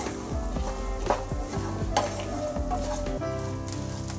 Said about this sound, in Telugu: ఈ కొబ్బరి కొంచెం బాగా ఫ్రై చేసుకోవాలి